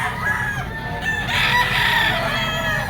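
A gamecock rooster, a Boston Roundhead, crows and clucks over a dense, noisy background of other fowl, loud and close, with no clear pauses.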